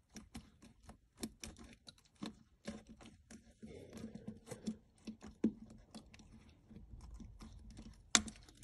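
A knife blade pries a laptop keyboard key up off its retainer clip: a quiet series of small ticks and scrapes, ending in one sharp snap near the close.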